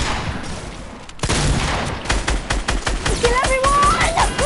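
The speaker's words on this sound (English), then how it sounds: "Oh, no, I'm shooting." Rapid bursts of video game gunfire crack in dense volleys at close range, a sharp sequence of shots building into sustained firing, with a voice speaking over the shooting.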